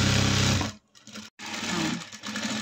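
Sewing machine stitching a 36-inch chudi top, a steady loud mechanical whir that stops abruptly twice for brief pauses before running on again.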